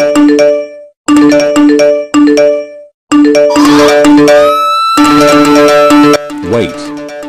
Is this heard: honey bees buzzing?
no